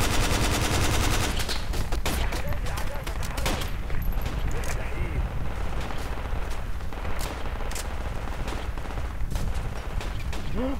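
Dense, continuous gunfire in the Project Reality war game, a fusillade of rapid automatic bursts and single shots at close and middle range that keeps going without a pause, with a few voices shouting through it.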